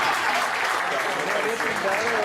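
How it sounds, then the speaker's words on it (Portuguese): Dense, sustained applause from a crowd at a Zouk dance lecture fills the whole moment, loud and steady without pause. "palmas para o Alex Carvalho, está aqui, com a gente"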